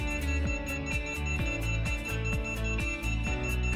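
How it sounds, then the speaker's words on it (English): A smart light module in pairing mode gives a fast, steady series of electronic beeps. The beeps repeat rapidly and evenly and sound close and clear, with low tonal hum underneath and no talk. "So you can hear the fast beep."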